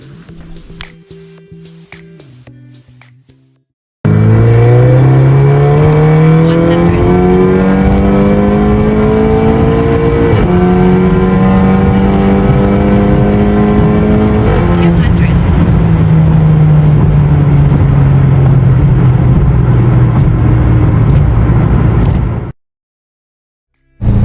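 A 2011 Volkswagen Scirocco R tuned past 500 hp accelerates hard through its gears at night, the loud engine note climbing steadily with brief dips at each shift, sustained and close for about twenty seconds.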